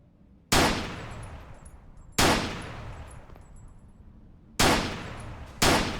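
Sniper rifle fire in the indie stealth shooter Intruder, four loud sharp shots spaced irregularly about one to two seconds apart, each ringing out with a long decaying tail, no talk.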